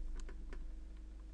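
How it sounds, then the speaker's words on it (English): Several faint, sharp clicks from a lightly used old computer mouse, spaced unevenly over a low steady hum, with no voices. "you may be able to hear the mouse clicking as well, because it's been barely used"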